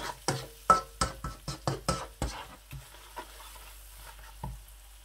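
A spoon stirs a kadahi kabab mixture with ginger paste in a pan, giving a quick run of about a dozen crisp, rhythmic scrapes and taps, then a few slower, fainter strokes.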